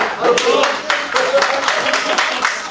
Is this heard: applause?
yes